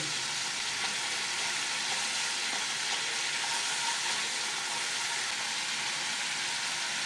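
Tomato paste and ginger paste sizzle steadily in a hot pan for a tangra fish curry, a continuous close, even frying hiss with no pauses and no voices.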